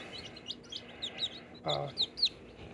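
A millefleur cochin bantam chick chirping nearby, with a run of short, high peeps spaced irregularly over a quiet background hum, plus one brief lower squawk partway through.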